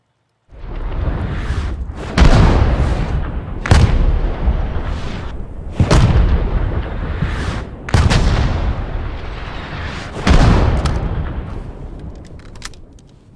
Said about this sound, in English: artillery barrage has done the job